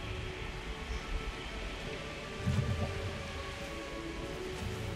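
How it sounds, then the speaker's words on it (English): Steady rain falls in the dinosaur park game Jurassic World Evolution, a dense, even hiss with a faint low rumble partway through and no talking. "Oh, I know, it's raining"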